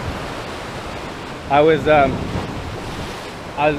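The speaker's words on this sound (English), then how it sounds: "We got that wet ass ocean." Ocean waves on a wet December night give a constant rushing wash mixed with wind noise, and a voice briefly speaks over it twice.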